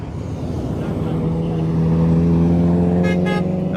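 A silver Ferrari F40 sports car at Monterey Car Week gives off a steady, droning engine note that swells slightly louder, with a crowd murmuring nearby.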